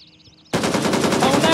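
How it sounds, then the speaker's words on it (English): Automatic gunfire in the video game Grayzone Warfare bursts in abruptly after a quiet moment and continues as a loud, rapid, sustained volley of shots at close range. "Oh shit, taking fire, getting cover."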